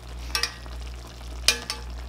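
Spicy braised tofu simmering in a pan gives a faint steady bubbling hiss, with two pairs of brief scraping stirs from a utensil against the pan.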